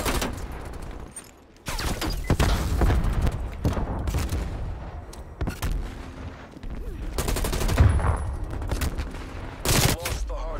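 Rapid bursts of PPSh submachine gun fire ring out during a Call of Duty Cold War match, loud and close, with short gaps between sprays and other gunfire mixed in.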